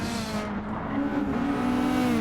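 Mazda Atenza race cars in Gran Turismo 7 at Bathurst, engines droning steadily as they brake and bunch up, with tire noise and no voices.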